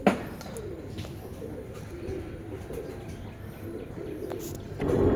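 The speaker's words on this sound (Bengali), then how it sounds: "স্ক্রিনে এখন যে কবুতর জোড়া দেখতে পাচ্ছেন এটাও ওমানি ব্লাড লাইনের" Teddy pigeons of Omani bloodline give soft low coos close by, a continuous murmuring under faint background noise.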